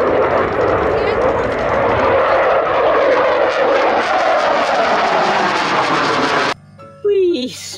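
A toy fighter jet plays a loud, continuous engine roar that sweeps gradually in pitch for several seconds, then cuts out and is followed by a brief electronic whistle-like tone, all heard up close.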